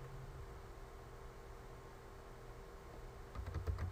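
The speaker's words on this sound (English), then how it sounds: "we'll type in some information that may be specific only to our company" Someone types on a computer keyboard in an office-software setting, making soft, faint clicks over a low steady hum, with a brief burst of louder keystrokes near the end.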